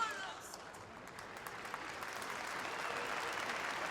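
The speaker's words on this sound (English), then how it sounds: "Warm applause as the players, match officials and coaching staff all take a knee before the game gets started" Warm, steady applause rises from the stands at a Women's Super League match between Manchester United and Reading as players and officials take a knee, a distant, even wash of clapping that builds slightly, with a commentator's voice over it.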